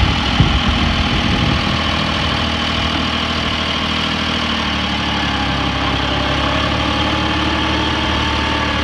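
A 2006 Kubota L39 tractor's diesel engine idles steadily nearby, a continuous low rumble with a knocking throb that holds at an even level throughout.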